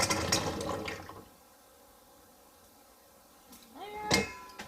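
Cooked chickpeas are strained and their water drains away: a clattering splash opens, then a soft, steady watery hiss trails on, ending in a few close knocks and clinks.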